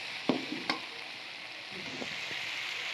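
Capsicum masala curry cooking in a pan over a medium flame gives off a steady, close sizzle, with a few sharp clinks and scrapes of stirring near the start.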